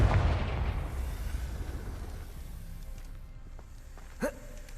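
Confringo blast in Hogwarts Legacy: a booming explosion that opens loud, then rumbles and fades over several seconds, with a brief sharp crack near the end.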